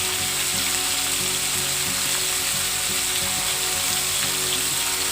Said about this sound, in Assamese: ইয়াতে মই পনীৰখিনি অকণমান ফ্ৰাই কৰি ল'ম